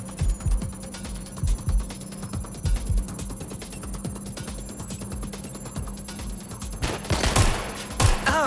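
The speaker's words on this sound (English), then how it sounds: "Taking fire!" Bursts of rapid gunfire crackle through a Watch Dogs Legion firefight, a dense fusillade with sharp individual shots over steady background noise, growing louder and busier toward the end.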